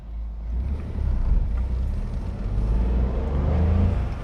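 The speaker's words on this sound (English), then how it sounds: "You can hear the engine making quite a lot of noise" A manual car engine held in first gear while pulling away, revving up toward about 3,000 rpm as a steady, close droning hum that swells gradually, with no talking.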